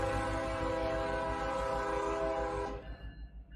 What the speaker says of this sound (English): we'll figure out where to honk the horn ourselves